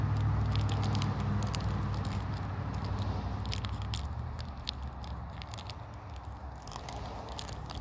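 Biting into a Milky Way milk chocolate caramel bar, close up: a steady soft crunch and mushy chewing texture fills the clip, gradually easing off, with no talk.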